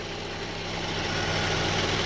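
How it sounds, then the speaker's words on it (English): A Honda CR-V 2.4L engine idles with a smooth, steady hum and low rumble, close and continuous, with no talk. "But the engine is running perfect."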